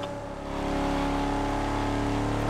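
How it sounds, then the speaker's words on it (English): A classic Cadillac with whitewall tires cruises down the road in the racing game The Crew Motorfest, its engine giving a steady, loud, even hum that swells slightly after the first half second and then holds. "Old caddy cruising down the road."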